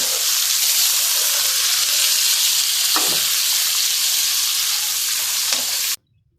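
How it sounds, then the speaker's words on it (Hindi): Chicken sizzles loudly in a hot pan over high flame, a dense steady hiss with a couple of soft clinks, cutting off abruptly near the end. "चिकन डालने के बाद चिकन को हम फ्राई करेंगे"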